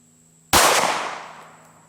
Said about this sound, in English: first, we're gonna shoot the full-size Glock 17 and see how it does